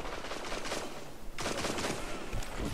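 Pistol gunfire in a Destiny 2 PvP match: rapid, closely spaced shots rattle on continuously, briefly pausing partway through before resuming.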